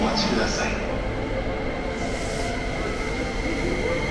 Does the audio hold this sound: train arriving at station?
yes